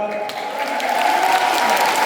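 Loud, dense audience clapping at a church gathering, continuous and steady throughout, with voices mingled in the crowd noise.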